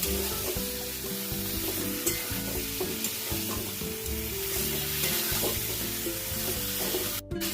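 Potatoes and chicken frying in a pan, a steady sizzle with frequent stirring and scraping over background music, no talk.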